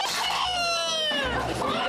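A live chicken at a Marrakech market clucks and squawks loudly and continuously at close range, with people talking over it.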